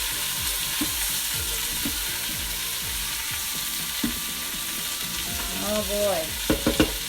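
A spoon scrapes around an Instant Pot of creamy broccoli soup in rhythmic strokes over a constant bubbling hiss, and a brief voice speaks near the end.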